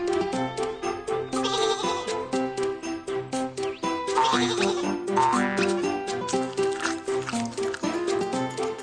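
Cartoon sheep on a train track in a kids' game bleat repeatedly over a bright, jingly musical background, the calls coming in quick succession and fairly loud.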